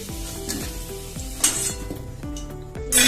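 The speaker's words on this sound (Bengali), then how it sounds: "একটু এপিট ওপিট করে লাল লাল করে ভেজে নেব" Potato pieces frying in hot oil in a pan, fried until reddish on both sides: a steady close sizzle broken by repeated scraping stirs and metal pan clinks, with a louder burst of sizzle at the end.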